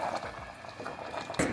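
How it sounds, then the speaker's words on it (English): Ukrainian sauerkraut soup, kapustnyak, bubbles in a covered pot as it thickens, a soft steady simmer with scattered pops and a brief louder clatter at the end. "It's boiling. As you see, nice bubbling and got very thick."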